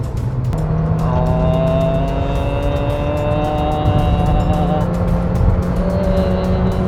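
A Toyota Veloz engine revs hard under loud acceleration in sport mode, a close, rising drone with climbing engine tones heard from inside the car.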